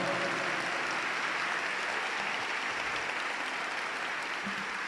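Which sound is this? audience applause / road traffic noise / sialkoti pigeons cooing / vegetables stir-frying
audience applause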